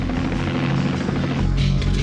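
A helicopter in flight, its rotor thudding steadily in a dense, continuous drone that stays level and fairly close throughout.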